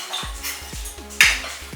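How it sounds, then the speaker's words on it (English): Broken chocolate pieces being tipped into a bowl for a layered chocolate trifle: a run of close, light clinks and clatters of hard pieces landing against the bowl and each other, with one sharper, brighter knock near the end. "Now I'm going to transfer the broken up chocolate into a bowl."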